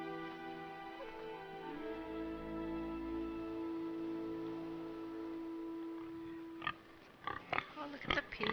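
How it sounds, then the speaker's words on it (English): Oinking from a pig in a Game of Thrones video game; the grunts sit under a sustained musical drone, and a few sharper bursts of sound arrive near the end. "Oh, look at the pig."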